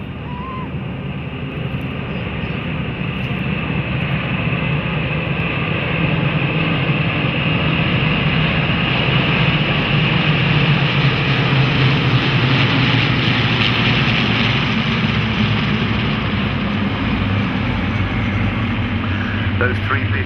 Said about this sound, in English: In the front, the Tiger Cat, Hellcat, Wildcat and Corsair, followed by the P-47, Corsair and Sky Raider.